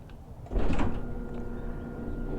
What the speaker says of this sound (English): it sends a signal to the opener, garage door opens